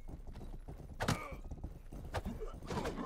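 Horse hooves clip-clopping in a video game, uneven thudding steps with a louder strike and a brief whinny-like cry, moderately quiet throughout.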